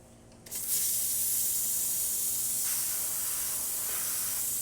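The steam wand on a Rancilio Silvia Pro espresso machine bursts on after a brief quiet moment and keeps up a loud, steady, close hiss.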